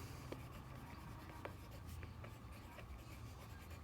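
Writing an equation on a board, with faint scratchy strokes and small taps over a low steady room hum, quiet and close, with no talking.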